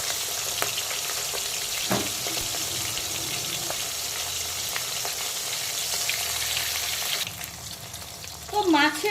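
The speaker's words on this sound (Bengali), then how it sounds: "এখন মাছের উল্টো দিকটাকেও হালকা করে ভেজে নেব।" Pieces of rohu fish frying in a pan give a loud, continuous sizzle up close, broken by a few stirring knocks, before the sound drops away and a brief voice comes in near the end.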